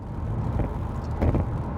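A Volkswagen Golf R with Stage 2+ tuning pulls away, its engine and road rumble steady and close, swelling briefly near the end with no talk over it.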